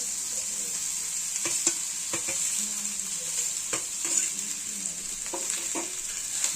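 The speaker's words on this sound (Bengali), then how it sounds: "ভেজে রাখা সবজিগুলো আমরা কড়ার মধ্যে অল্প তেল দিয়ে ফোড়ন দিয়ে এবার রাইস চালগুলো দিয়ে দেবো" Pre-fried vegetables and rice stir-fry in a little oil in a kadai for veg fried rice. A low steady sizzle runs under sharp, irregular spatula clicks and scrapes close by.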